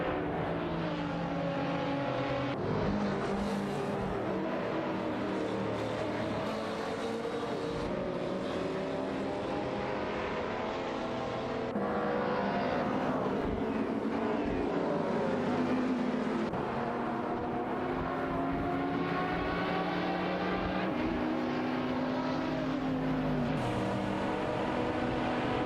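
Video game race cars, a Dodge Charger and an Aston Martin V12, roar continuously with engine notes climbing and dropping through gear changes, loud and steady for the whole stretch.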